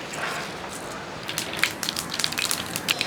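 Half a teaspoon of mustard seeds splutters in hot oil for a cabbage thoran, a soft hissing bed broken by a growing scatter of sharp little pops and crackles that quicken over the final couple of seconds.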